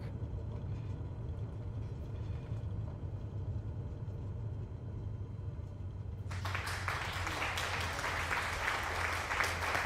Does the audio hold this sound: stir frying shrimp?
no